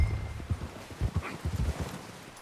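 A horse trotting in Red Dead Redemption 2, its hooves striking in a steady clip-clop rhythm close by, moderately loud and alone without talk.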